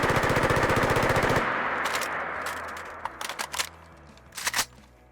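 Rapid automatic assault rifle fire from the game Fallout 4 in a fast continuous burst, then a few scattered sharp clicks and shots trailing off.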